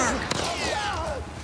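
A single sharp gunshot-like crack in The Last of Us Part II rings out over a busy, noisy background, followed by swooping electronic tones.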